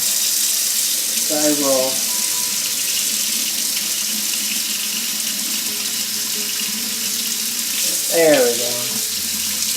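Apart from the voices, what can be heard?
tap water running into a sink for watering plants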